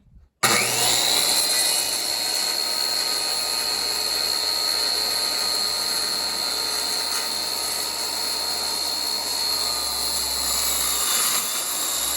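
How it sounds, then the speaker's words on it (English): An old Black & Decker power saw cuts steadily through material for a rat rod Tudor floor build. After a brief quiet start, it gives a loud, continuous high whine and rasp that holds for about twelve seconds. "it's an old Black & Decker, but still does the same. Cuts what I need to cut."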